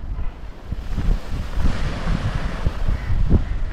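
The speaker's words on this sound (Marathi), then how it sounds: "सध्या समुद्राला भरती आहे, त्यामुळे समुद्र पूर्ण खवळलेला आहे" Rough monsoon sea at high tide churns against Arnala fort in Virar, waves surging and crashing in an uneven roar mixed with gusts of wind buffeting the microphone.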